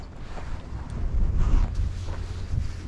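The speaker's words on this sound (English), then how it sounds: "It's so windy." Strong wind buffeting the microphone on a riverbank during winter catfish bank fishing, a steady loud roar with gusting rumbles throughout and no talk.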